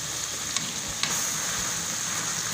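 Boiled Indomie noodles frying in a pan with soy sauce and hot sauce, giving a steady close sizzle with a couple of brief sharper crackles and no voices.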